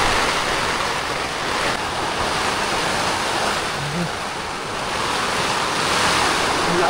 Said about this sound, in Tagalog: Ang lakas ng ulan doon mga idol.